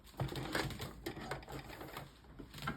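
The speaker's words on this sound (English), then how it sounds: "Back stitch to make sure it catches well." Sewing machine back stitching fabric while sewing adaptive clothing, heard close as a quick run of rapid mechanical stitching clatter with short pauses and uneven bursts.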